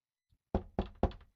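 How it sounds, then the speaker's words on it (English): Three distinct knocks on a bedroom door in a quiet hallway, evenly spaced and fairly close, preceded by a faint soft tap. "I knock on Isabella's door"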